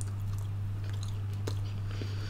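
Someone chews chewy KFC fast food during a mukbang, with soft close-up mouth crunching and squelching over a steady low background hum.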